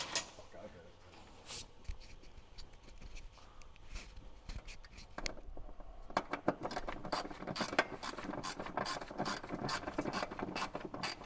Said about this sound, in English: Can you give me a socket and a 10 mil?